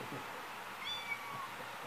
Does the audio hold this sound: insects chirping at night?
no